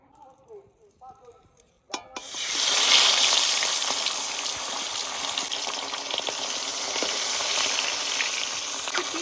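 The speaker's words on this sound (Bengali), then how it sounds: "তেল গরম হয়ে গেছে এবার মাছ ভেজে নেবো" Pomfret fish hits hot mustard oil in a wok with a sudden loud sizzle after a brief quiet stretch with a voice, then keeps up a close, steady crackling fry.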